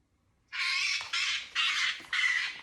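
A talkative parrot squawks in four loud, harsh bursts close by, each lasting about half a second with short gaps between them.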